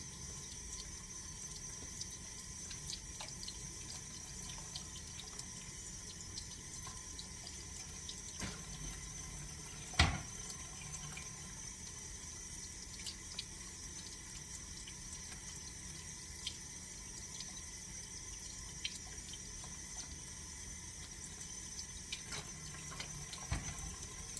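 Water runs steadily from a kitchen tap while delicata squash are rinsed beneath it, a faint continuous stream with a single brief knock partway through.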